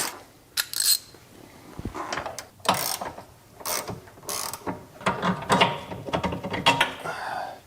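A ratchet wrench working on a car's suspension sway bar end link in a home garage: bursts of rapid clicking pawl strokes alternate with pauses and metallic clinks, close and fairly loud.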